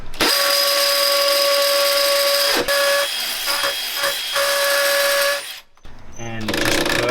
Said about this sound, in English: I'm going to turn it on hammer mode. It's going to be kind of loud